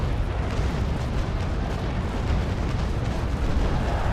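A sailing warship's cannon broadside in a naval battle against an AI fleet booms as a dense, continuous roar of heavy blasts, loud and close throughout with no talk.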